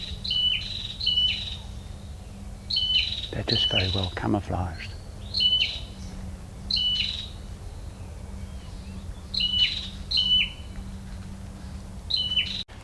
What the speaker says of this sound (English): there's so many different bird calls.